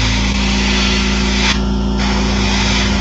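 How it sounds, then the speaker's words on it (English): Spray paint hisses steadily and loudly through a stencil onto a bullfrog fishing lure, one continuous close blast with no talking. "And I'm just gonna pick a different spot on this stencil, and I'm gonna line it up like just down the side here. And we're gonna spray"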